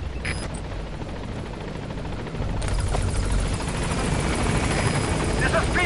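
A helicopter descends toward a landing zone in Metal Gear Solid V, its steady rotor roar filling the scene and growing louder and fuller midway through, with faint game sounds layered on top.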